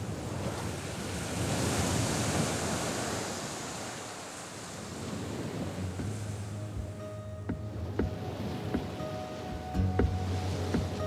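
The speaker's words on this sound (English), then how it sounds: "Lapped by the waves of the Atlantic Ocean, it is the last land before Brazil." Atlantic Ocean waves wash against the southernmost shore of a Bissagos island in West Africa, a steady rolling surf with wind gusting across the microphone and no voices.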